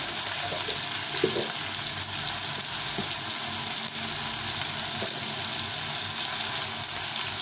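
Tomato with salt, turmeric, cumin and chili powder fries alongside a broken fish head for a bottle gourd curry, a steady close sizzle with occasional light clinks of stirring.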